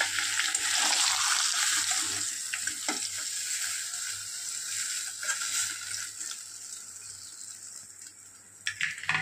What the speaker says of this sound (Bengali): তো চলুন মাছের মাথাটা ভেজে নিয়ে রাখছি।